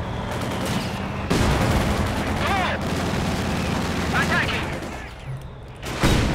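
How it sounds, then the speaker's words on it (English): Mortar fire in the video game Company of Heroes 2, during a Stalingrad mission: dense bursts of gunfire and heavy booms in quick succession, loud and layered battle noise. "Oh, the mortar."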